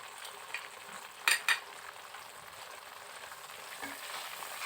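Spices including dried chilli paste and turmeric fry quietly in a pan for a country chicken curry, a soft continuous sizzle broken by a couple of sharp utensil clinks against the pan.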